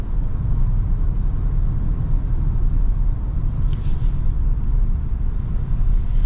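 A 2026 Toyota Tundra hybrid pickup accelerates, its drivetrain heard from inside the cab as a steady, loud low rumble and road roar that holds evenly throughout with no break.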